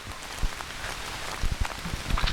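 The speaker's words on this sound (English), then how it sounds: "you can hear it's raining now" Rain patters on a tent at a campsite in Algonquin, a soft, steady hiss broken by scattered louder drops and taps close by.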